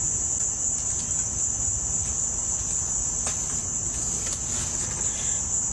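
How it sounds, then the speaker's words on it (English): Crickets chirp in a continuous high steady trill outdoors at night, constant and fairly loud over a low rumbling background with faint scattered clicks. "I don't know if you heard this little clicking noise in the background of that video aside from the crickets"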